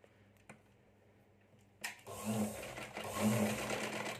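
A sewing machine stitches the fold of a blouse, starting after a short quiet lead-in and running steadily and fairly close for the remaining couple of seconds.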